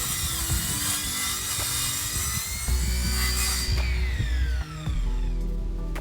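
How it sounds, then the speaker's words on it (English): A hand saw or power saw cuts through a 2x6 board held against a ladder at a jungle cabin build site in Belize, giving a steady, loud, close grinding drone with shifting whine throughout. "That way I can cut it with the saw."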